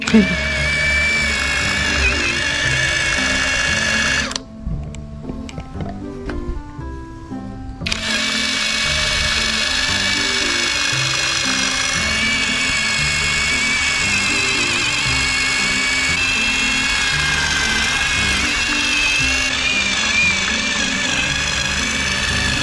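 A buzzing impact tool with rubbing compound runs steadily while buffing a scooter visor on an NMAX V2, a loud close whine that cuts out for a few seconds near the start and then resumes without a break.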